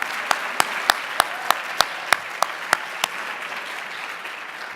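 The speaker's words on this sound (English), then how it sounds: "Give yourselves a round of applause." Crowd at a national academic quiz competition welcome clapping in a soft, diffuse wash, cut through by about ten sharp, evenly spaced louder claps close by that stop partway through.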